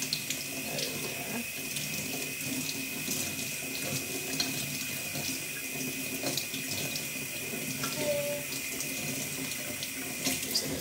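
Cold to medium water running steadily from a kitchen faucet into a sink while strawberries are washed, a continuous close splashing rush with a few faint clicks and no talk.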